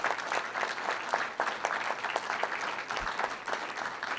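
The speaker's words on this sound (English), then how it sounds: "big round of applause for our" An audience at the Land-Sea Symposium applauds a panel, a dense, even burst of many hands clapping that carries on for several seconds.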